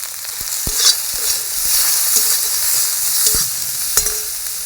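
Masala spices with salt sautéing in a frying pan, a strong continuous sizzle with several knocks and scrapes of the spoon against the pan, close and loud with no talk.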